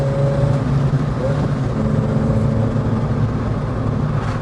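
A Peugeot 309 GTI engine drones steadily from inside the cabin while driving, with brief throttle blips during gear changes sitting under a continuous road and engine hum.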